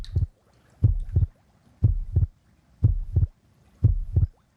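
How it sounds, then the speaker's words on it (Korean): Heartbeat sound effect from the 2016 film Nocturnal Animals, depicting a dying person, with deep, close paired thumps in a slow, steady rhythm, five beats heard alone with no music or talk. "죽어가는 사람을 표현한 그 심장 소리, 그 효과음이랄지"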